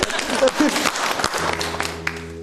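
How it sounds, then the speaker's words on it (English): Seminar audience applauds in a brief burst of dense clapping, with a voice briefly audible near the end. "Give yourselves a round of applause."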